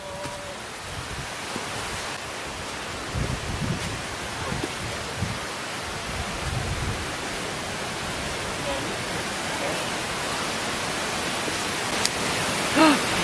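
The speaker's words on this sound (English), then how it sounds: "Hear the waterfalls." Steady broadband rush of waterfalls in a forest at Jim Thorpe, a constant wash of falling water filling the scene, with faint voices and a brief soft tone near the end.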